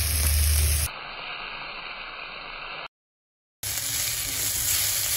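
Mung bean dish sautéing with salt and pepper in a pan, a loud steady sizzle with hissing spray, broken by an abrupt cut and a short gap before the frying noise returns.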